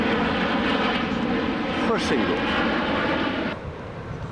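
A low propeller aeroplane drones steadily overhead at a cricket match at Old Deer Park, its engine roar loud and sustained before easing slightly, with a commentator talking over it.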